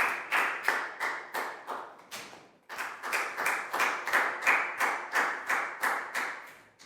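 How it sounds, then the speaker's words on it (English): A classroom of children claps together for a classmate after a maths lesson, a close rhythmic burst of sharp, evenly spaced claps that fades briefly, then resumes in a steady beat. "High five and a big round of applause for Lakal"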